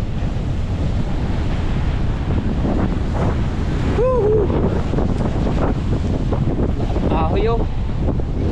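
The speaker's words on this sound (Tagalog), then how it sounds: "napakalakas ng hangin" Strong typhoon wind roars continuously over the Bicol region, a broad rushing buffet that batters the microphone throughout, with brief shouts from a person partway through.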